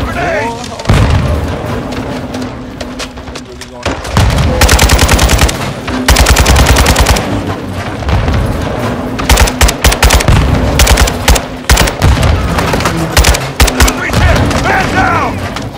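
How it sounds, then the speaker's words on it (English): Call of Duty Modern Warfare 2 campaign battle with rapid machine-gun bursts, booming grenade launches and scattered gunfire filling the scene at high volume, with game characters shouting in between. "They're launching grenades!"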